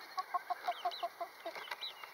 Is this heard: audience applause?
no